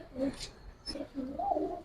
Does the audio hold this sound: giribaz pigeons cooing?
yes